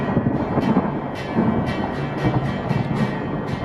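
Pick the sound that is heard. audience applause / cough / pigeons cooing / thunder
thunder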